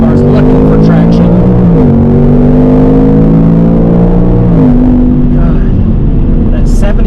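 Ford Mustang GT V8 with automatic transmission revving hard under acceleration as it hunts for traction, a loud, steady engine note rising, dipping at gear changes, then climbing again.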